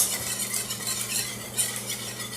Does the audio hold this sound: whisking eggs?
yes